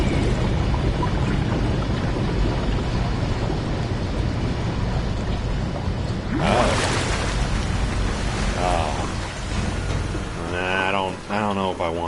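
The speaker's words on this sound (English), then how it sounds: "And now I can do a flush." Water rushing and flushing through pipes after a pump starts in SOMA, a dense continuous gush that swells around the middle, with a voice speaking toward the end.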